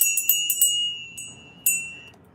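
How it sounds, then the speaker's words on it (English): A small hand bell rings in a quick burst of several bright strikes, then two more separate rings, each clear tone ringing out and fading in a quiet room. "I'm ringing a bell"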